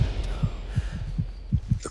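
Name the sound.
percussive music score like an accelerating heartbeat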